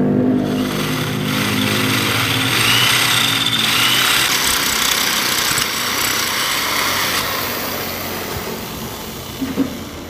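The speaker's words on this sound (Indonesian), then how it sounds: "sekarang langkah selanjutnya kita bor saja langsung di bagian sini. Kita bor kembali." A high-pitched power drill bores into metal, whining steadily for several seconds, then tapers off near the end with a brief clatter.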